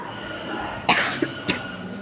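A few short coughs close up, two or three dry bursts spaced apart over a faint steady background hum.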